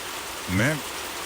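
Stormy rain with flowing water hisses steadily in an animated story, a dense wash of noise that continues throughout while a voice briefly speaks over it.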